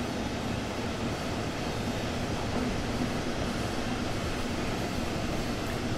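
A train in the Train Sim World 2 simulator, a BR766.2 on the Dresden–Riesa route, lurches along with a steady, loud rumbling roll and wheel noise throughout.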